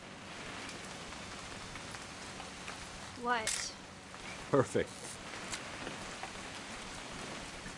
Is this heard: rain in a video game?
yes